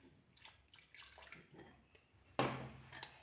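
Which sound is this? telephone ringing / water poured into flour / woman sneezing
water poured into flour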